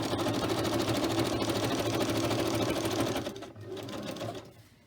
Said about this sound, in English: And bring in the sewing machine.